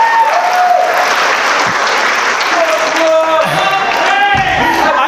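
Applause and cheering from a comedy show audience, loud and sustained throughout, with voices rising through the crowd noise near the end.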